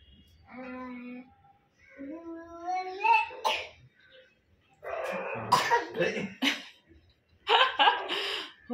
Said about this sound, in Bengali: ফোনে কথা বলতে বলতে কাশি উঠে যাচ্ছে তো